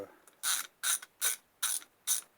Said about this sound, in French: ou même un cliquet, quand vous êtes avec votre cliquet là